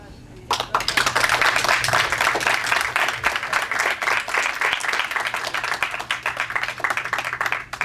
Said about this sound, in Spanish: entonces tenemos un aplauso al director